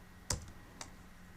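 A computer keyboard is tapped during CAD drafting, giving two distinct keystroke clicks about half a second apart, close and crisp in a quiet room.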